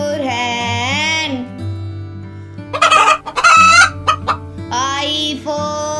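Chicken calls from a farmyard hen come in a cluster of loud, choppy bursts, close and clear, between stretches of bright children's music in an alphabet song.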